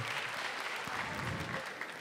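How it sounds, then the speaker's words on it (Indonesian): Audience applause at a stand-up comedy show in Tangerang, a steady dense clapping that fills the whole moment, loud and close, with no voices over it. "Tepuk tangan dulu."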